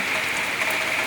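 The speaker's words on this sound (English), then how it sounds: "it's raining very heavily now." Heavy evening rain coming down steadily in front of a home with puddles, an even, full rushing hiss of drops striking the ground, with a small surge of louder splatter midway.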